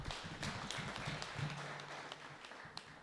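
Applause at a church self-help group's annual general meeting, a soft, distant patter of clapping from a modest gathering that runs steadily and fades slightly toward the end.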